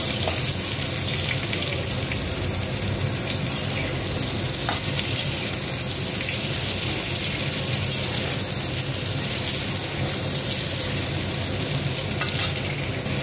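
Pointed gourd, ridge gourd and drumstick pieces fry in hot oil with cumin, a dense, loud, continuous sizzle with occasional stirring clatter throughout.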